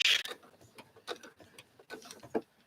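A sewing machine stitching quilt fabric along a quarter-inch seam on curved pieces, giving faint, irregular mechanical ticking and clattering in short bursts, with no voices.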